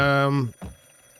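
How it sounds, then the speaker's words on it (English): A phone rings in the driving game Drive Beyond Horizons: a short, loud, buzzy electronic ring that cuts off after about half a second, leaving a faint steady hum. "phone's ringing, dude."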